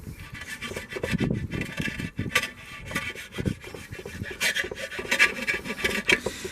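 Hardened Milliput epoxy filler on a broken terracotta garden pot being filed, a continuous close rasping rub in uneven strokes throughout.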